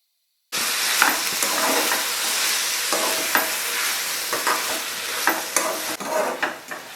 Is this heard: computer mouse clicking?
no